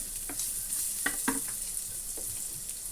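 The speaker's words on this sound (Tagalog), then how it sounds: "Igisa lang natin yung talbos ng kamote." Sweet potato leaves sautéing in a pan with a little lean pork: a steady frying hiss is broken by a few clattering stirs and soft scrapes near the middle.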